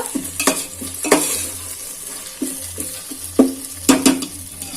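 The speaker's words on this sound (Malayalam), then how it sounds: "മുളകിന്റെ പച്ചക്കുത്തൽ മാറുന്ന വരെ ഒന്ന് ഇളക്കുക." A spoon stirs chili masala in a pan for Ambur chicken biryani, making repeated scraping knocks in an uneven rhythm over a low, soft sizzle, close and clear with no talking.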